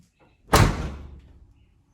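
A car door slams shut once with a loud, close thud while its window is being adjusted, and the sound decays quickly into quiet.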